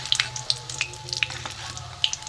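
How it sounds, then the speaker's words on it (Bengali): Soybean fritters (bora) fry in oil, crackling and popping in quick irregular bursts over a steady sizzle, close and fairly loud, with no speech. "দেখুন সোয়াবিনের বড়া ভাজা হয়ে যাবে"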